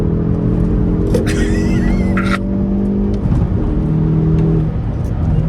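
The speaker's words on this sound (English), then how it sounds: "this engine loves, I mean, loves to rev" A Hyundai i30 N engine revs with a manual gearbox, a steady loud car drone holding throughout, with a rising whine partway through.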